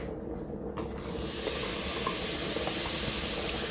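A tablespoon of homemade lard melting in a hot pan, a quiet start that swells into a loud, steady sizzling hiss with a couple of sharp clicks early on.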